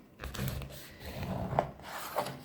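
A knife saws through a loaf of karakılçık sourdough bread made with chickpea-water natural starter, cutting a thin slice with soft rasping strokes and a couple of brief crusty scrapes, close and fairly quiet, with no talking.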